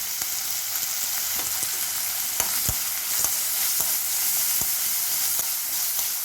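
Onions frying in a pan with salt and turmeric powder for vada pav, a loud, steady close sizzle broken by frequent sharp clicks of stirring.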